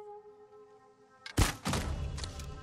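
An arrow strikes an enemy in Ghost of Tsushima with a single sharp thunk, after a quiet stretch of sustained tonal game ambience, followed by a scuffling rustle.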